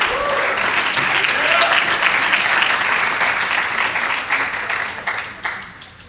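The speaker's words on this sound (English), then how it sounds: "So give her a round of applause." A crowd applauds at a Martin Luther King Jr. read-in event, a loud, sustained wash of clapping that holds steady and then thins out and fades near the end.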